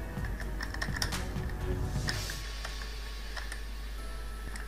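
Quick bursts of typing on a computer keyboard while designing a business flyer, crisp close key clicks in an irregular rhythm with steady background hum and no talk.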